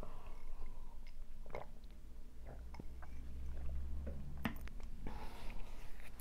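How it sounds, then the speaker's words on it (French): A single person takes a sip of a drink, giving soft, close mouth and swallowing noises with small clicks over a quiet low hum. "je vais prendre une gorgée."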